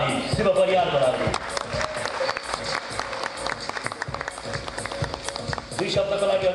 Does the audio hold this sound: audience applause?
yes